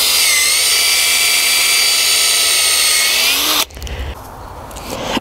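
A power drill bores a tap hole into a bigleaf maple tree, a loud, steady whine that stops abruptly near the end, followed by quieter handling noise outdoors.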